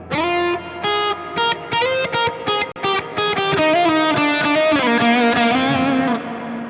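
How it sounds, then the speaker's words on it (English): Electric guitar notes run through the distortion reverb effect of a Donner Arena 2000 pedal, heavy distortion with washy reverb, first in short separated phrases, then a sustained swelling chord that fades. "It's interesting they call it dist reverb."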